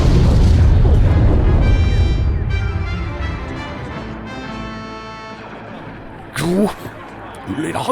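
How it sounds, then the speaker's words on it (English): A ship exploding in a comic-style Star Wars dub, a loud deep boom with a long rumbling, crackling decay that slowly fades, followed by a brief whooshing burst near the end. "The ship is about to explode!"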